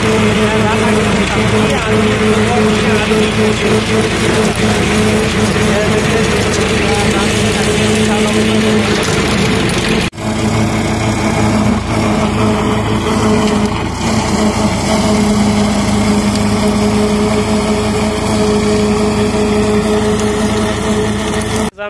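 A tractor engine drones continuously at close range, loud and unbroken throughout, with rough mechanical rattling layered on top.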